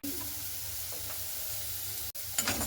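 Cauliflower with salt, turmeric and chili powder stirred in a pan, a steady soft sizzle with a few brief scraping strokes and a short clatter near the end, no talk.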